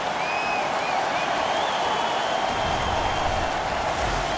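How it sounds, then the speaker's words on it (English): Home crowd in an NHL 15 hockey video game arena cheering and roaring steadily after a fight, a dense, continuous wash of noise with no speech. "The home crowd is ecstatic. They're making all kinds of noise."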